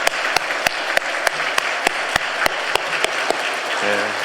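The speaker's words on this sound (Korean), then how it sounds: "격려의 박수 한번 하겠습니다" A church congregation stands and claps together in a steady, even rhythm during a Sunday worship service, sharp regular beats filling the room with no voices over them.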